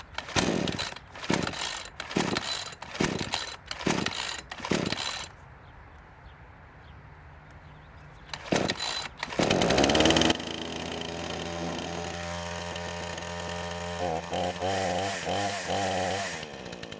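A Craftsman chainsaw is started with a run of sharp pull-cord yanks and a pause, then a few more pulls before the engine catches and settles into a loud, steady running drone with revving variations.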